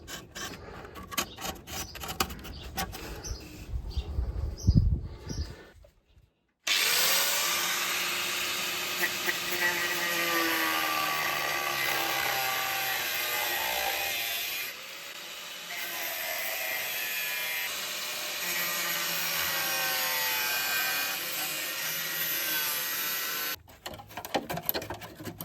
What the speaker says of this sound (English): after grinding out tons of rusty metal, I've exposed a bit of a hole